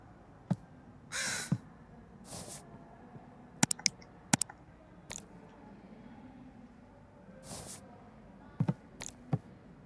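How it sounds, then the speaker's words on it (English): Several sharp caws from a crow in the video game Simon the Sorcerer Origins, spaced irregularly over a quiet ambient bed, with a few noisy bursts in between. "A crow, eh?"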